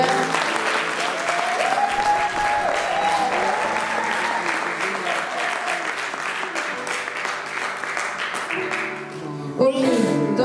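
A church congregation applauds for the Lord during a worship service: sustained, dense clapping from a large crowd, with voices calling out over it.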